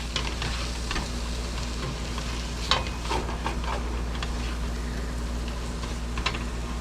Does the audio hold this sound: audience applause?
no